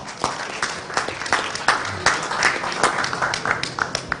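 Audience applauding Argentina's football squad at an Indonesia event, a sustained, crackling burst of many people clapping with sharp individual claps standing out, fairly close and steady throughout.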